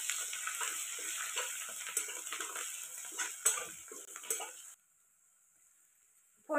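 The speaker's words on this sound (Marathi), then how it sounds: "फोडणी छान तळलेली" Garlic, ginger and coriander fry in a spice tempering for an onion-greens dish cooked village style on a wood-fired stove, giving a steady close sizzle with light stirring ticks until it cuts to near silence, followed by a brief final knock.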